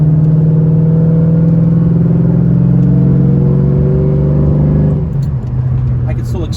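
Modern LS V8 car accelerating with the air conditioning running, a loud, steady low engine drone that holds for several seconds, then shifts pitch as a voice begins speaking over it.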